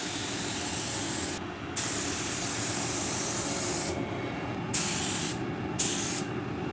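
A spray gun paints the quarter panel of a BMW 535i E60, with continuous loud hissing bursts broken by short pauses as each pass starts and stops, close by and with no talking.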